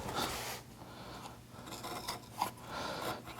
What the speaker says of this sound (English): Take our flat gouge and create the panes of the windows.